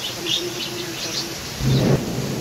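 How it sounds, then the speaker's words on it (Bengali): Steady rain hisses in a windy storm under a low thunder rumble that swells near the end, with faint bird chirps in the background. "কি পরিমাণ বাতাস আর বৃষ্টি হচ্ছে"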